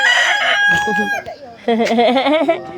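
A rooster crows loudly nearby, one long strained crow and then a second, rougher call after a brief pause.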